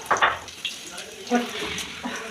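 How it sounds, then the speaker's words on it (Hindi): Garlic fries in a pan in a home kitchen, giving short crackling sizzles and bursts of spatter with a faint voice nearby. "ये हमने डाल दिया थोड़े से लहसुन"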